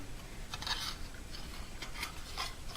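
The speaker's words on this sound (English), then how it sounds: "So I'll probably just hit it with sandpaper, try to straighten the edge out like that on a flat surface." A violin edge is rubbed against sandpaper on a flat surface, giving a soft, quiet rasping in repeated short strokes at an irregular rhythm, close by with no talk.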